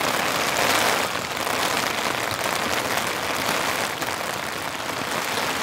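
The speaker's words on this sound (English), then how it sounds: "There's some pretty heavy rain coming down. Tent shaking around a bit." Heavy rain drums hard and steady on a camping tent during a rainstorm with strong winds, a dense, loud hiss that surges briefly near the start and keeps going without a break.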